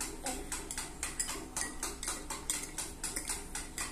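A spoon stirs sugar into hot tea in a cup, clinking against the sides in a quick, steady rhythm of close metallic taps for the whole stretch.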